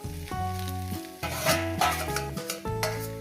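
Fried brinjal slices being stirred in a pan with a soft, steady sizzle and intermittent scraping, heard under tuneful background music throughout.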